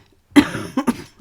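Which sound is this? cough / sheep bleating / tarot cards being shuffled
cough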